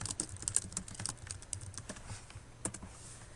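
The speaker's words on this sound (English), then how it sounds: "so let's go back and type that in." Quiet, rapid clicking of computer keyboard keys as a title is typed, irregular taps in short bursts over a faint background hum.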